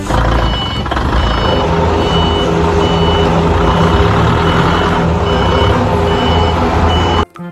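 A toy forklift gives off continuous reversing beeps, loud and steady under a dense electronic whir of toy sounds, stopping abruptly near the end.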